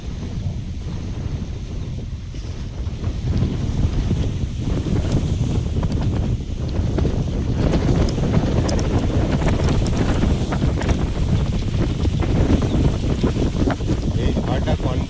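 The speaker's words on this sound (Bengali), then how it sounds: "কত জোরে হাওয়া দিচ্ছে দেখুন।" Strong storm wind blows hard around a home garden, a loud continuous roar that buffets the microphone and swells and eases throughout.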